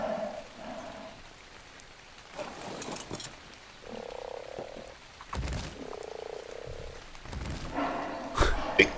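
A giant frog in the video game ARK croaks repeatedly, several low throaty calls in bursts with gaps between them, over soft game ambience with rain-like patter.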